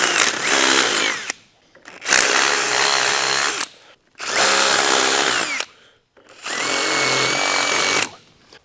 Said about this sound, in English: we're just gonna ream that out with a drill bit a little bit so we can get the bolt through there